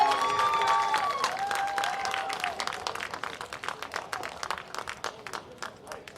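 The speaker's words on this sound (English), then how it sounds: "91 faithful starting to cheer, knowing that they've got the championship." Crowd cheers and applauds at a national championship youth football game as the final whistle nears, a scattered stadium audience with whistles early on and clapping that builds into dense, continuous rattling applause.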